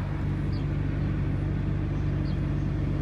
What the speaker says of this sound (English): I hear a car or a bike